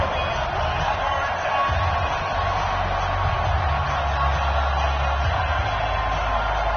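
A sold-out stadium crowd in an EA Sports NFL football video game keeps up a constant, dense roar of cheering throughout, loud and unbroken with a low rumble underneath.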